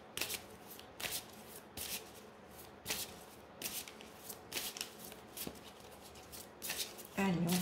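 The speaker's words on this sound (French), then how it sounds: "brasser les cartes à côté" A deck of oracle cards being shuffled by hand, with a run of soft riffling bursts repeating at a steady pace, close and fairly quiet, and a faint voice near the end.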